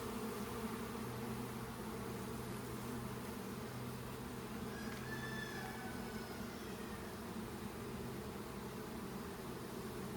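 Honeybees hum at an open hive, a faint, even, continuous buzz over a low background drone, with a few higher passing whines from bees flying close.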